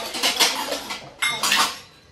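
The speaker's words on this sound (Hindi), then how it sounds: "ये बर्तन सब अलग अलग निकल रही है" Metal kitchen dishes and utensils clatter as they are sorted in a home, two bursts of clinking and scraping, close and fairly loud, with no talking.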